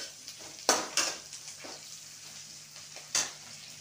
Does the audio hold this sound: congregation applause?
no